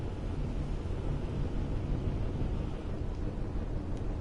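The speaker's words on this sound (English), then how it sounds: "this thing's really dead set on these dust storms, too" A dense, roaring dust storm wind in a Mars survival video game, a steady, loud low rumble that fills the whole stretch without pause or voices.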